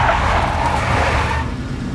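A big black Mercedes in the Max Payne game drives close by with a steady, loud engine roar and a hint of tire hiss, holding level for about two seconds before easing slightly.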